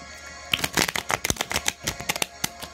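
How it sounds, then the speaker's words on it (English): A fresh pack of Uno playing cards is shuffled by hand, producing quick bursts of riffling and flicking with sharp clicks and snaps close up, lasting a couple of seconds without speech. "We're doing an epic shuffle montage."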